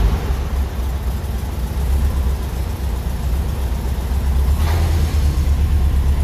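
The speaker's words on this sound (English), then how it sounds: "it's as simple as putting a key into the ignition and turning it. It should start up right away" A 1978 Volkswagen Beetle Convertible idles outdoors with a low, steady engine rumble, joined by a passing truck in the background.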